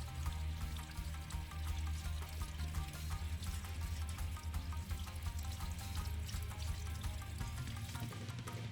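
Running water pours steadily over spinach being washed, a continuous splashing rush with small clinks and knocks throughout.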